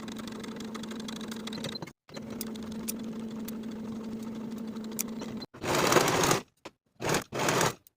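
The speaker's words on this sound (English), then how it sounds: "I'm going to sew each of these seams with a 3/8 inch seam allowance" A sewing machine stitches bodice side and shoulder seams of a V-neck boho top, running in a steady hum for several seconds, pausing, then resuming in three shorter bursts, close and alone.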